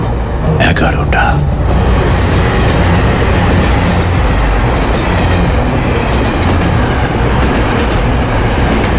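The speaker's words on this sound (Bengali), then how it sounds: "ঊর্ধ্বশ্বাসে ছুটে চলেছে লাস্ট ট্রেন" The last train speeds along at night in a loud, continuous rumble and roar of wheels on rails, with a brief high squeal or horn-like tone near the start.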